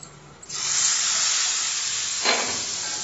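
A loud sizzling hiss bursts in as a spice tempering is poured into a pot of rajma, sustaining steadily with a brief flare of extra crackle near the end.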